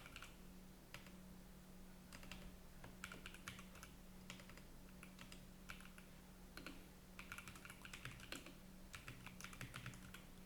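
Fingers type code on a computer keyboard in a steady stream of light clicks and keystroke bursts, close and moderately quiet, with no one speaking.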